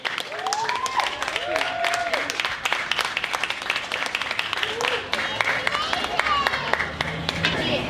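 An audience claps steadily for a Goju-Ryu karate demonstration at an outdoor cultural festival under a tent, the dense applause continuing throughout as voices and cheers rise over it.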